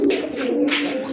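Pigeons cooing at a pigeon seller's stall, a short, close, clear coo with soft throaty pulses.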